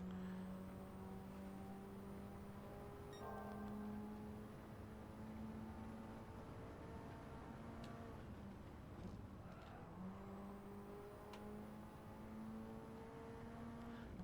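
Race cars in Gran Turismo 7 howl steadily for fourteen seconds. The engine pitch climbs and drops with gear changes, and a few faint tire squeals come through, fairly quiet with no talk.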